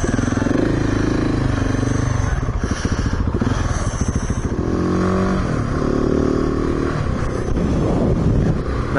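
A Husqvarna 701 single-cylinder motorcycle is ridden on the road, its engine loud and close with a thumping, pulsing drone, shifting pitch as it revs up and eases through gear changes, joined by some rattling clatter and wind.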